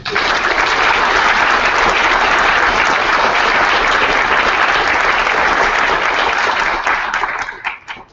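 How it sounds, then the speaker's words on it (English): A lecture audience at a memorial lecture gives the program organizers a round of applause: loud, dense, sustained clapping from a full room, tapering off quickly in the final second. "I would like the result to give them a round of applause"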